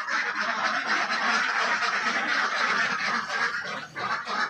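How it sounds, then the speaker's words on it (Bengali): About 170 laying ducks, kept in an enclosed duck farm, quack and honk continuously as a dense, loud, close chorus with no speech. "170টা ডিমের হাঁস আছে না?"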